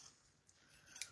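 Scissors snip through paper while cutting pieces for paper piecing at a sewing table, giving two or three quiet, close, crisp cuts spaced apart.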